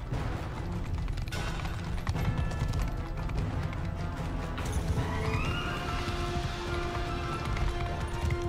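Horse neighing and galloping hooves in the game Mount and Blade: Bannerlord, a loud whinny over steady clip-clop in a dense battle mix, with no talk.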